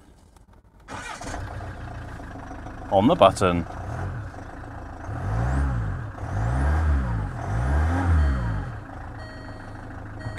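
A Range Rover Evoque cranks briefly and fires up, then settles into an idle and revs in three rising and falling swells, close by, with people talking.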